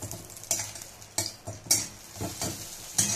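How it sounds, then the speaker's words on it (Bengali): An egg omelette frying in oil gives a soft, low sizzle broken by several sharp taps and scrapes of a utensil against the pan. "এবার ডিমটা ভেজে নেবো"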